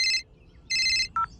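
A phone rings with a bright electronic tone: two long bursts separated by a pause, then a short lower chirp. Loud and close, with no voices.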